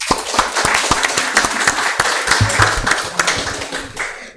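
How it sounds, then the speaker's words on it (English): Applause from a seminar audience, a sparse group of people clapping with distinct, close individual hand claps in an uneven rhythm that thins out and stops near the end. "Let's give her a round of applause."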